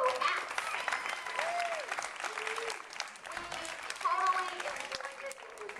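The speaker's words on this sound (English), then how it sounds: "Let's give them a big round of applause for their show." Audience applause after a kindergarten school show, steady clapping from a crowd with some background voices and tonal sounds mixed in, moderately loud throughout.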